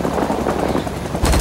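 Rapid machine gun fire in the Vietnam War video game Rising Storm 2: Vietnam, a dense rattling burst that swells louder at the end, with no voices.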